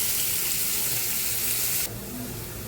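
Onion and cumin frying in a pan, a steady close sizzle that drops to a quieter crackle partway through, with no talking.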